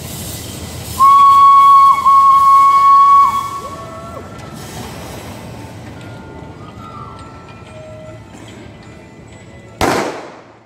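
A single loud pistol shot bursts out near the end of a train-robbery stage show at the Elspe Festival, after a long, piercing steam whistle and the low rumble of the train.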